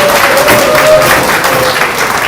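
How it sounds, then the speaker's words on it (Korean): Loud, dense applause from a crowd at a political party members' education meeting in South Korea, steady and continuous throughout the short stretch with no speech over it. "박수 한번 주세요."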